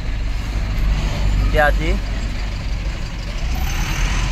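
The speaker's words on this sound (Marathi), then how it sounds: "ट्रॅफिक बघू शकता तुम्ही" Steady rumble of trucks and cars in heavy road traffic behind a mango delivery truck, with engines idling and moving close by, while someone speaks briefly over the noise.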